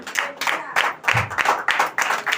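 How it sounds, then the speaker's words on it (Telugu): A church congregation claps their hands together, a loud, dense burst of overlapping claps lasting a couple of seconds with no voices over it. "స్తోత్రం చెప్పి అందరూ చప్పట్లు కొట్టండి ఒకసారి"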